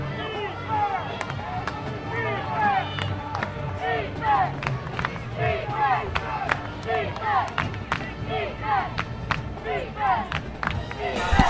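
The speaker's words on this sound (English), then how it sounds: "Crowd getting into it," A football stadium crowd claps and cheers steadily at a North Greenville versus Florida Tech college game, with rhythmic clapping and scattered shouts ahead of a defensive stand. Commentary runs over the top.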